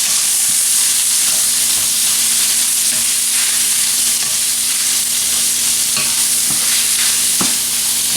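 Sausage frying in a pan for a breakfast casserole, a loud, steady, close sizzle and crackle running throughout with occasional stirring scrapes and pops, no voices.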